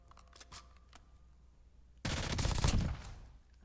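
Gunfire in the video game Black Ops 6, a sudden dense burst of rapid shots lasting about a second after quieter faint game noise, loud and close with no talking.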